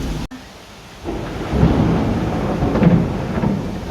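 A heavy monsoon rainstorm with thunder, as a sharp crack is followed by a long rolling rumble over steady, dense rain on surfaces, loud and close, with no voices.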